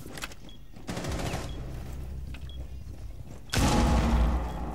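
Automatic gunfire bursts in Rainbow Six Siege, a sustained rattle from about one second onward that swells to a louder, heavier volley near the end, with no talking.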